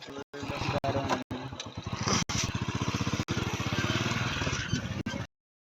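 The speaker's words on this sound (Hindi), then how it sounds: "अल्हम्दुलिल्लाह मैं मोटरसाइकिल पर चढ़ गया हूँ और जा रहे हैं इस तरफ" A motorcycle engine chugs and putters in a rapid, even rhythm as the bike pulls away on a street, close and steady, with brief pauses and continuous running with no clear talk.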